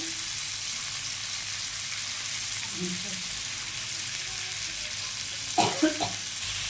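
Pomfret fish pan-frying in oil gives a steady close sizzle, with a couple of sharp clatters near the end as the fish is flipped.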